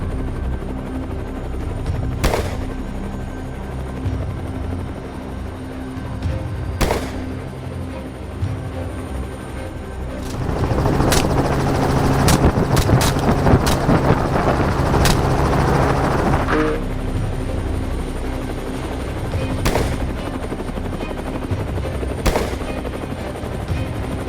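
Loud, steady helicopter rotor and engine noise throughout a night wild boar hunt, with a rise in intensity midway and several sharp gunshots from the moving helicopter scattered across it.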